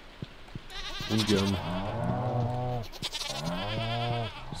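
A goat in Stardew Valley bleats in two long, wavering cries, loud and close, with a brief spoken word before them.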